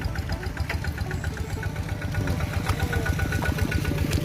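A tractor engine chugs steadily nearby in a rice paddy with a rough, knocking idle rhythm, continuous and fairly loud, no voices.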